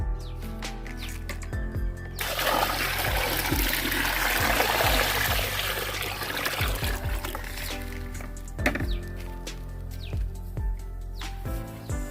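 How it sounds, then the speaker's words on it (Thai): Water is poured onto carbonized rice husk in a container during fermentation prep, a steady rushing pour lasting several seconds at close range with faint trickling before and after, and no talking. "เสร็จเรียบร้อยแล้วเราก็เทน้ำลงไปอีกรอบหนึ่งครับ"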